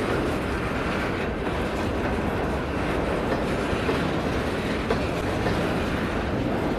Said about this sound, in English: the train backs the container cars onto the loading dock